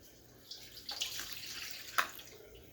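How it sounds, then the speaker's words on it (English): About three quarters of a cup of water is poured into a bowl for a pulled pork mop with apple cider vinegar, a short, faint splashing pour with a couple of brief louder splashes, no talking. "We're going to go with about 3/4 of a cup of water."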